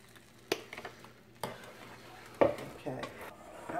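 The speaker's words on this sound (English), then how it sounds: "I've been stirring this virtually almost nonstop for 8 minutes" A metal spoon clinks and scrapes around a pot while lemon curd is stirred, giving a few sharp knocks between softer scraping, close by with faint kitchen hiss.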